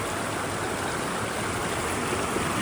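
Strzelecki Creek in the mountains runs with plenty of water, giving a loud, unbroken rushing roar that fills the air evenly throughout.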